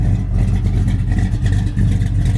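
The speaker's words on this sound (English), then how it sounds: "Beautiful sound and dual exhaust." Rumbling idle of a 1966 Chevy Chevelle V8 breathing through dual exhaust, a steady low throb with slight lumpy pulses, close and fairly loud throughout with no talking.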